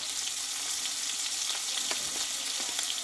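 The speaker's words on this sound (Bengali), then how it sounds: "দিয়ে মশলাটা ভালোভাবে কষিয়ে নেব" Salt and turmeric sizzle with chopped tomato in hot oil for a Bengali mung dal, a steady close frying hiss with light scraping stirs and no talk.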